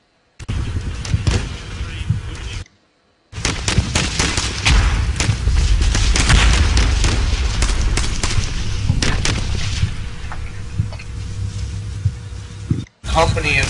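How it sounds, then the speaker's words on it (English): Artillery booms and bursts of gunfire from a war video game about a military battle in Homs, heavy and loud, rolling almost continuously with brief gaps of silence, while a voice talks over the combat. "I fire upon them from multiple angles and successfully overcome their defenses."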